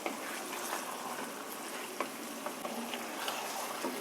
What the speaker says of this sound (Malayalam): ഇനി ഒരു 1-2 കപ്പ് വെള്ളം ഒഴിച്ച് ചിക്കൻ വേവിക്കണം